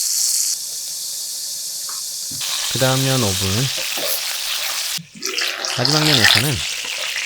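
Pork belly fries skin-side down in a covered pan, giving a steady loud sizzle and hiss throughout, with a person speaking briefly over it in places.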